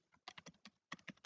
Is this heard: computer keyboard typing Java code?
yes